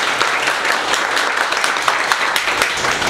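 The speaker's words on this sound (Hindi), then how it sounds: "सर के लिए ताली बजा दो जोरदार।" Students in a mobile phone repair class applaud their teacher, a loud, dense burst of many hands clapping continuously and close by for the whole stretch.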